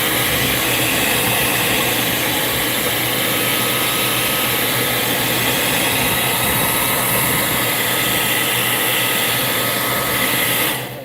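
A Conair hair dryer runs loud and close with a steady, even whoosh and whine for about eleven seconds, then cuts off abruptly at the end; no one speaks.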